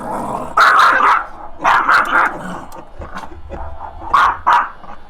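A dog named Bella barks and growls in loud, close bursts, with several sharp barks grouped in clusters and lower growling between them.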